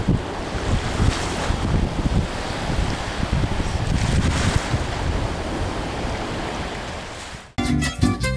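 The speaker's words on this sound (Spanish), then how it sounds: "En la playa" A beach roars with breaking surf and strong wind buffeting the microphone, loud and continuous, before cutting abruptly to a short burst of music at the end.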